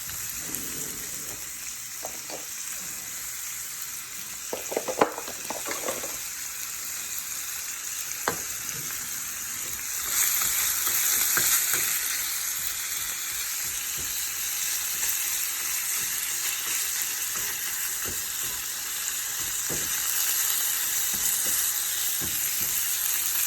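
Taco filling frying in a pan with salt and pepper added, a steady close sizzle and crackle with occasional stirring scrapes and a louder surge of hissing partway through.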